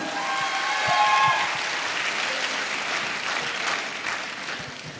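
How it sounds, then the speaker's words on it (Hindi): Sustained audience applause at a leadership event, a broad even wash of clapping from a crowd, with a brief voice near the start. "आप सभी के लिए एक बार जोरदार तालियां"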